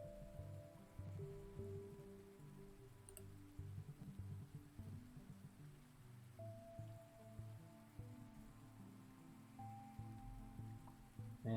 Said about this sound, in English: Everyone's out, panic over the rain.